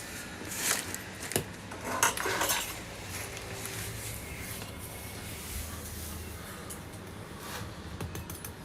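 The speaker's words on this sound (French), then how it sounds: "vas-y, coupe en deux." Cutlery clicks and scrapes against a plate while a cheesy snack, an empanada, is cut in half, a few sharp taps early on followed by softer scraping over a low background hum, without speech.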